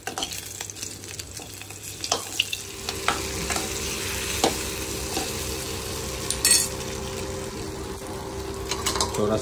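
Garlic and mutton fry in very hot oil with a steady, close sizzle, while a utensil stirs and scrapes the pan at intervals. A brief louder crackle comes partway through.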